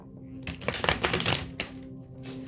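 Tarot cards riffle and flutter in a quick burst of papery shuffling, close and fairly loud, settling into quiet afterward.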